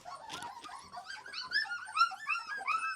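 Young Rottweiler and Bull Mastiff puppies whimper and whine at feeding time with a puppy bowl, a steady chorus of high, rising and falling cries close by with no talking.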